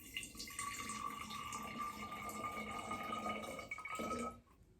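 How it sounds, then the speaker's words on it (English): Water trickles and gurgles as a little is poured from a small container, a soft continuous splashing for a few seconds that ends abruptly, close and fairly quiet. "You can pour a little out."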